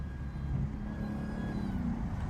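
Dodge Hellcat with a catless exhaust accelerating, a low, rumbling engine drone heard from inside the car, fairly faint and steady over a couple of seconds.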